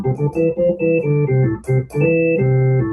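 A Hammond B3 organ tone played on a keyboard, a sequence of sustained chords with clear note changes and brief gaps, loud and close with no voices.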